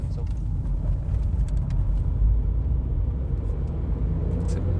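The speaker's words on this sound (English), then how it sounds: "That's foot flat to the floor in second gear." A Volkswagen Polo at full throttle in second gear, its engine a steady low rumble that swells slightly as it pulls, heard from inside the car beneath a talking voice.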